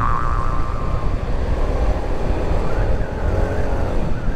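A Yamaha NMAX scooter is ridden through a U-turn on a city avenue, its engine humming steadily under heavy wind rumble and passing traffic noise.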